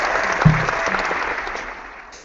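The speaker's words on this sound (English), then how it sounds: "Now, where's your little applause sound?" A short burst of applause, played as a sound effect, rises sharply and then thins out over about two seconds.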